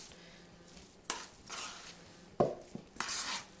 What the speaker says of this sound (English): All I do right now is just kind of stir it, punch it down